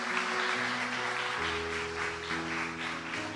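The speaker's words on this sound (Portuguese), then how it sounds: "Uma salva de palmas para Deus." A church congregation bursts into applause during a Portuguese-language sermon, with a steady wash of clapping hands over soft organ or keyboard chords that carry on throughout.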